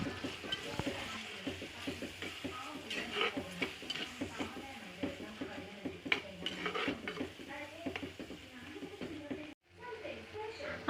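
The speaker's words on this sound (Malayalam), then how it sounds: "ഞാൻ അരപ്പ് നന്നായിട്ട് ഇട്ട് കൊടുത്ത് നന്നായിട്ടൊന്ന് മൂപ്പിച്ചെടുത്തിട്ടുണ്ട്" Masala paste frying in a pan over softened onions, with a soft sizzle under repeated scraping and clinking stirs, and someone talking throughout.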